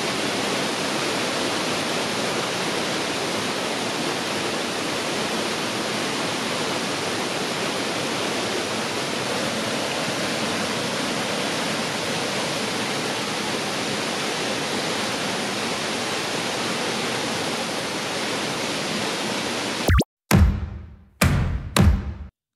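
The Lombel waterfall near Lombel village in Fongolimbi roars as a steady, dense rush of falling water, loud and unbroken, before ending abruptly in a few brief thumps and handling knocks.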